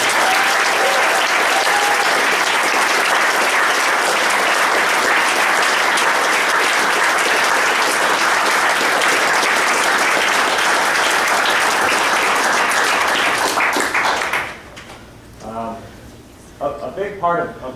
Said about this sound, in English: You guys give them a round of applause.